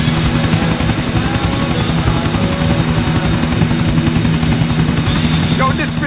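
A helicopter in GTA IV flies close and loud, its rotor thumping in a constant rapid beat over a dense engine drone that never lets up.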